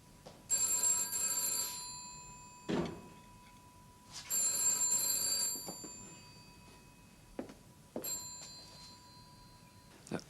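Telephone bell ringing indoors at night in two long trilling bursts with a shorter third start, moderately loud, with faint knocks and movement between rings.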